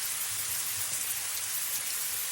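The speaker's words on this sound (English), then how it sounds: "But right now it's raining." Steady rain falling, a dense even hiss with soft low patter throughout and no voices over it.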